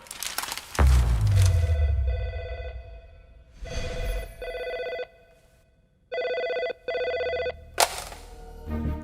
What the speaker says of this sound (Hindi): दिल्ली से फोन आया।